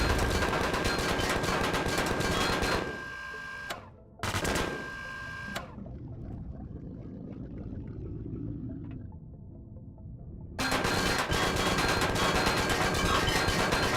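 A laser minigun fires in the video game Empyrion Reforged Eden, a dense, continuous mechanical buzzing rattle in sustained bursts, cutting out briefly and dropping to a quieter hum before the loud stream resumes.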